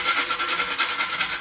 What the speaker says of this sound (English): And I'm just going to grate that nutmeg.